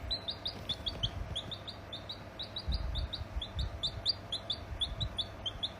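Rapid high-pitched cheeping repeats steadily throughout, like a small chick, with soft low bumps and rustling beneath.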